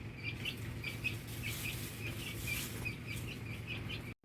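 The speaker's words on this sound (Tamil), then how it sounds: "கோழி குஞ்சு லைட்டாக பறச்சு விட்டுட்டு இருக்குங்க." Chicken chicks chirp repeatedly in quick, high bursts over a soft, continuous scratching and rustling background, fairly faint and steady throughout.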